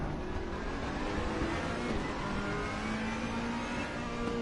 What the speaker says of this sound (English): Camaro's a good car, especially in a straight line